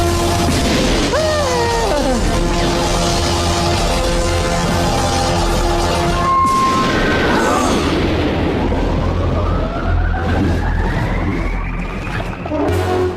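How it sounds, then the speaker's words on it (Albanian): A lightning-strike attack effect from a dubbed Yu-Gi-Oh cartoon hits as one sudden loud crackling boom mid-clip, followed by a rising electric whine and rumble, all over a dense backdrop of music and effects. "Goditja e rrufes!"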